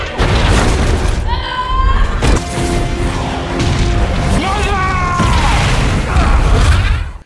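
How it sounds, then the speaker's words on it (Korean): A massive planet-wide explosion from Guardians of the Galaxy Vol. 3 rumbles loudly and continuously, with deep booms, crashing debris and rising tonal swells from the film score running throughout. "그런데 갑자기 행성이 폭발하기 시작."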